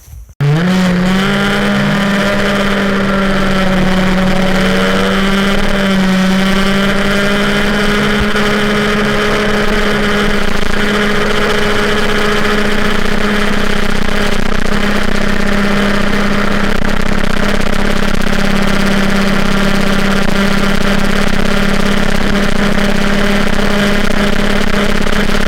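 An MBK 51 moped fitted with Polini parts revs up and holds a steady, buzzing high-pitched two-stroke drone on a test ride, loud and continuous with no talking.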